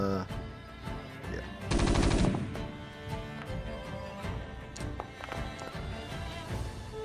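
Rapid machine gun fire in a tabletop RPG session, rattling bursts over a busy mix of background music, with one dense sustained volley in the middle.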